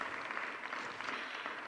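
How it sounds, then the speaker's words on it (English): A conference audience claps in a brief, steady burst of applause, dense and even from start to finish at moderate distance. "Let's give one more round of applause to KPMG"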